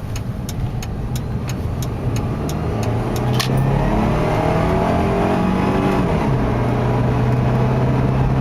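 A 2002 Jeep Liberty Limited accelerating hard from inside, engine droning and rising in pitch through the gears with a clear upshift partway, loud and continuous, preceded by a few light ticking clicks.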